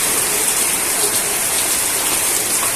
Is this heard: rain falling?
yes